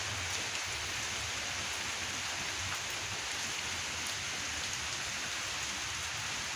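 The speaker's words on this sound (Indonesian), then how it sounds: "Alhamdulillah pada sore ini malah udah turun hujan di sini permisa" Steady afternoon rain falls at an old grave site in Java, a dense, even hiss of drops on surfaces with no breaks and no voices, continuous and moderately loud throughout.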